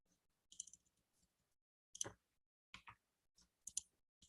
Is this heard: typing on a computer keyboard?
yes